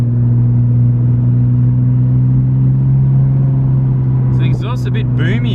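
A Nissan R32 GTR with an RB26 engine and a boomy exhaust drones loudly from inside the car while driving, holding a steady engine note, with someone talking over it near the end.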